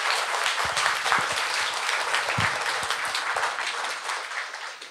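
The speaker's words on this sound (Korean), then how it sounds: "큰 박수로 맞이해 주십시오." Audience applause welcoming a Buddhist monk to the stage at a memorial lecture event, many people clapping steadily at moderate loudness throughout, tapering slightly at the close.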